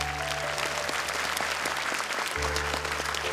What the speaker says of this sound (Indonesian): Tepuk tangan untuk Zuhra.